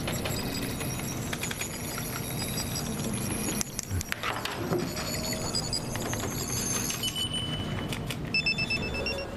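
A telephone rings in bursts amid a busy, noisy room, moderately loud against the background clatter.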